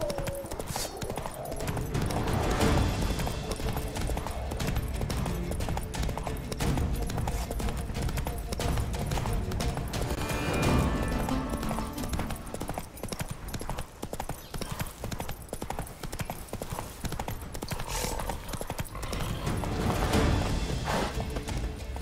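Roach, the horse in the video game The Witcher 3, trotting, with rapid rhythmic hoof clip-clops running continuously and fairly loud, mixed with game ambience and occasional faint voices.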